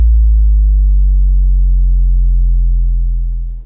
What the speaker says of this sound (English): here we have different bass effects